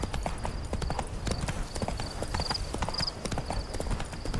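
Roach the horse trots along in The Witcher 3, hooves clip-clopping in a brisk, even rhythm, close and loud, with faint chiming game sounds layered above.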